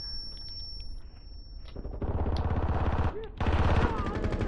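Fast automatic gunfire bursts out in a video game firefight, starting after a quieter opening with a high steady tone and then rattling loudly and continuously in close, rapid volleys.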